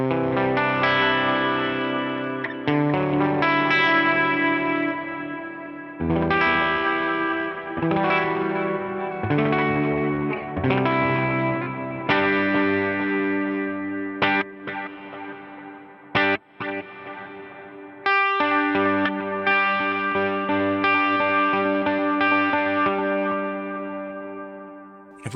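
A clean electric guitar plays chords and single notes through a delay into a ducking reverb on a Line 6 Helix-family unit, with echoing repeats and a swelling reverb tail blooming in the gaps between phrases.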